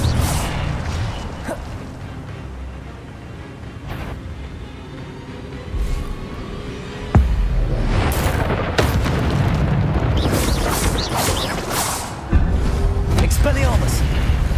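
Fiery spell blasts boom and whoosh in the wizarding game Hogwarts Legacy, a string of loud bursts spread across the stretch with sharp impacts and rumbling tails, heavy and close over a busy mix.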